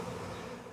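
Package of honey bees installed in a hive box after making splits, buzzing as a steady dense swarm drone close by, continuous and loud throughout with no voices.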